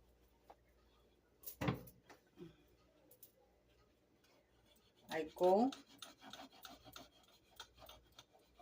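A long knife trims the top off a hot coffee and chocolate marble cake, making a few faint, brief rasping scrapes separated by quiet pauses.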